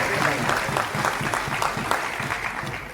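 Audience applause at the UPPCS 2024 talent honour ceremony in Prayagraj, a dense burst of many hands clapping steadily and loudly for the full three seconds.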